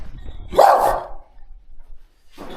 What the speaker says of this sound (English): The Campsite Warden dogs.